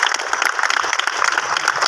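An audience at a Hindi-language event honouring daughters breaks into dense, continuous applause, many hands clapping at once in a steady, lively wash with no voices standing out.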